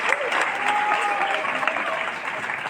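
Audience applause in a church gathering welcoming a pastor before a cake-cutting ceremony, steady dense clapping filling the whole stretch with faint crowd noise.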